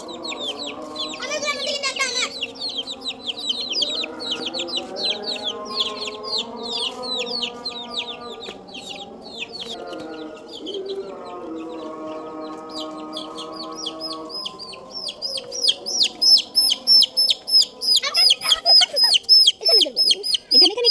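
Newly bought hens and chicks at home cluck and cheep; low clucking runs throughout, then rapid, high, repeated chick peeps grow loud near the end, with faint background voices.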